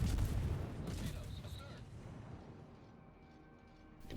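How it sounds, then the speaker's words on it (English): Destroyer guns fire shells in a naval battle video game, with a heavy booming blast at the start that fades into rumbling, followed by a lighter report at the end. "Continue to put shells onto the Minotaur."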